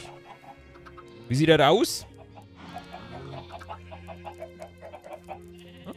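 Chickens cluck in the video game Minecraft, with one short, loud squawking burst followed by softer scattered clucks, heard under a person talking.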